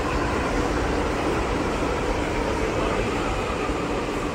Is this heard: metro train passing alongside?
yes